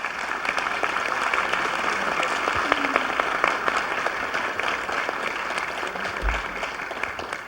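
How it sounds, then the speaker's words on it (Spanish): An audience at a workshop in Atlanta applauds to welcome a guest speaker. The clapping is dense and sustained and fills the room at a steady level for the whole stretch. "un fuerte aplauso"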